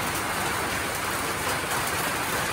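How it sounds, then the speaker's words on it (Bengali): Steady rain falls outside a home in the evening, a dense, even hiss of drops on surfaces that holds constant throughout with no voices. "আর দেখো এই যে বৃষ্টি শুরু হয়ে গেছে।"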